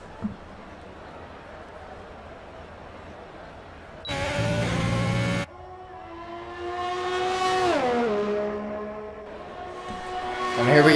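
A race car engine revs and shifts through gears in an esports racing video game, its pitch rising and falling in sweeps, with a brief harsh burst of noise in between.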